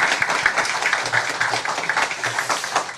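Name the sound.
applause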